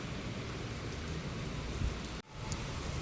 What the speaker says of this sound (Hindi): बेमौसम बारिश।